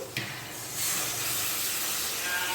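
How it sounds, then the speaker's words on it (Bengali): Water is poured into a hot pan of spiced masala for hilsa curry, setting off a sudden loud steam hiss that swells and stays as a continuous sizzling rush. "এবারে আমি জল দিয়ে দিচ্ছি"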